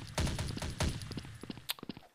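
Pistol gunfire in the online shooter Blood Strike: two heavy bursts of rapid shots up front, then a quicker string of sharper, lighter pops trailing off, loud and close with no talk.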